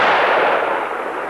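A gunshot rings out during a field test of a Weimaraner hunting dog, a single loud blast whose broad, rumbling tail decays slowly outdoors.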